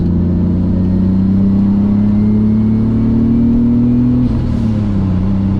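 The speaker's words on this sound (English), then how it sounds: "I'm just gonna do a couple pulls, get some turbo noises." Turbocharged BMW E34 with an M50 engine pulling hard, a loud close steady drone rising in pitch under load, then a brief dip and gear change before climbing again.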